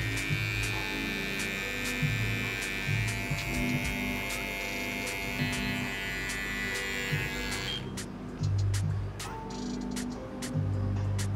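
An electric hair trimmer buzzes steadily and close while it finishes a low fade haircut, its tone shifting as it moves over the head; short thumps and a brief dip in the whine come near the end.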